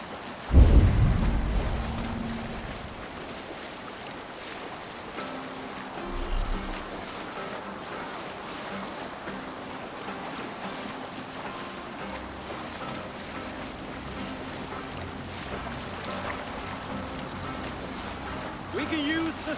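A Viking longship under sail in Assassin's Creed Valhalla: steady wind and water wash with a soft rolling surge, a low thump near the start, and voices talking over it throughout.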